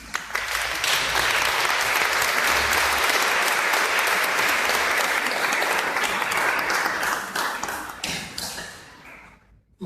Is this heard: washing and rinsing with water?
no